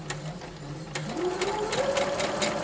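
A sewing machine runs steadily while quilting, its motor whirring with a rapid stitching rhythm that rises slightly in pitch partway through.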